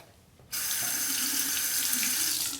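Tap water starts abruptly and runs steadily from a faucet into a sink to rinse a straight razor during a shave, loud and close with no speech.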